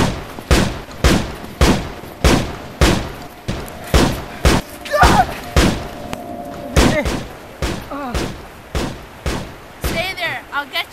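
A battle reenactment of Vimy Ridge, with a rapid series of sharp rifle shots cracking one after another, loud and close, at roughly half-second intervals, while a voice briefly shouts partway through.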